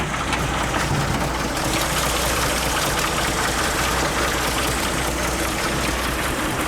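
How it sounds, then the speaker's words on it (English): A propane-fuelled 6-cylinder engine in a Walt Disney World omnibus idles with a steady, low, close rumble that holds evenly throughout without any talk. "And you have your standard internal combustion engine. It is a 6-cylinder, and it runs on propane, not gas."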